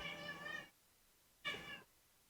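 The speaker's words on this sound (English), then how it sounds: "Freaking cats are fighting viciously" Two drawn-out, strained cat yowls come in quick succession with a short gap between them, faint and fairly distant, sounding like cats fighting, with no voices.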